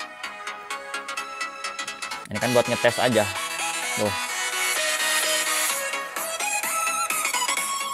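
No-copyright music playing through the speaker of a Samsung Galaxy S21 FE 5G phone, a steady tuneful track that runs throughout, with someone talking briefly over it near the start.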